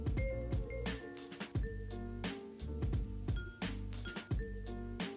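A stock market closing bell rings repeatedly in a steady series of bright metallic strikes, each sustained ring overlapping the next and carrying loudly across the whole stretch.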